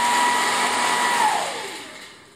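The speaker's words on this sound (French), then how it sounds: "On va appliquer sur la voiture une force exercée par de l'air expulsé par un sèche-cheveux" A hair dryer blows air at a small car to push it, giving a loud, steady whooshing whine that holds for about a second and a half before fading down.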